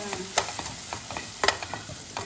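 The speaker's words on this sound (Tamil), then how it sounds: "பச்சை வாசனை போகிற அளவுக்கு கிளறி விட்டுருங்க." Chilli powder, coriander powder and garam masala are stirred in a hot pan over low heat with a steady sizzle, broken by sharp scraping strokes of the spoon at irregular intervals.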